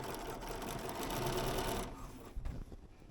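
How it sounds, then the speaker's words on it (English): Sewing machine stitching a seam on a men's shirt, a fast dense mechanical whir running steadily for about two seconds, then stopping, followed by faint handling noises. "so I'm going to sew until I can see this little line"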